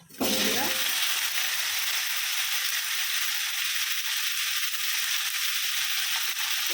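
Chilli and panch phoron spices hit hot oil with a loud, steady sizzle that starts abruptly and holds for several seconds, close up and alone without speech.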